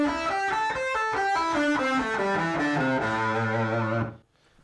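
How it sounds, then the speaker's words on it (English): A distorted electric guitar plays a C pentatonic scale, one sustained note after another running downward with a heavy overdriven tone, loud and alone, ending on a held low note. "he'll actually be playing a C pentatonic scale"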